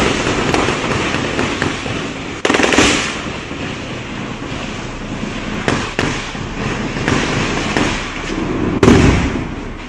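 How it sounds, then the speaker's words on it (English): Gunfire rings out in a village: sharp, loud cracks and bangs at irregular intervals, some in quick clusters, over a constant rough background noise with no talking. "They open fire in the village."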